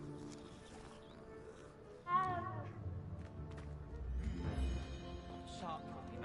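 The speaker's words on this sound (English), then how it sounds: "Second cat I seen." A cat meows in Hogwarts Legacy, one clear wavering call rising briefly out of game music and ambient background, with a second fainter cry following a couple of seconds later.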